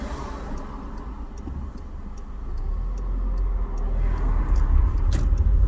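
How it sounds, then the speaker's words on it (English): Road traffic in Croydon, London, with a steady low rumble of cars passing and idling nearby, growing louder toward the end, plus a faint regular ticking, like an indicator, throughout. "I can't get up the road because of the traffic coming in."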